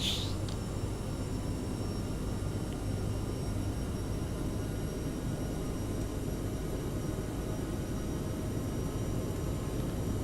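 CRJ-700 jet engines at full thrust in a flight simulator roar continuously, a dense, even, loud rumble and hiss that holds steady throughout with no voices over it.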